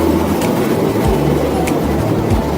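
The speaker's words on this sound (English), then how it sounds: "Here comes our tram." A zoo tram rumbles steadily close by at Toronto Zoo, a continuous low mechanical drone with faint rhythmic clunks as it rolls along.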